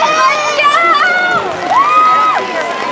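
Spectators cheering and shouting at a high school varsity girls' cross country sectional race, with loud, close voices calling out in rising and falling tones over an outdoor crowd.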